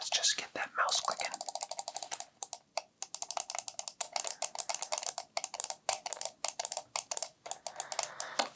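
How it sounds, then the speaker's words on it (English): Rapid computer mouse clicks in close, dense bursts, crisp and dry, running nearly continuously with brief pauses in a quiet indoor setting. "Let's just get that mouse clicking."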